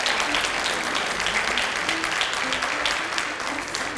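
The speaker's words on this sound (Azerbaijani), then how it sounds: "ürəkdən alqışlayaq" An audience claps warmly for a veteran folk artist at a televised Azerbaijani music programme, dense steady applause filling the room for the full length, loud and sustained without any voices.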